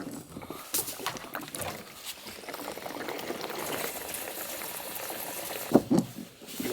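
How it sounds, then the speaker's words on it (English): Old two-stroke gasoline is pumped through a fuel line into a drain pan, a soft continuous gurgling liquid pour at moderate distance, ending with a few brief louder splashes and knocks. "we'll pump through until it's running clear into like the drain pan."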